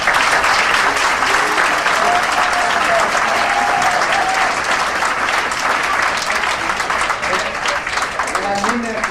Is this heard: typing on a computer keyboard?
no